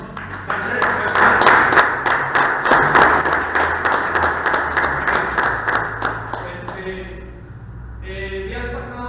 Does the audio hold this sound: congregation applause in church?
yes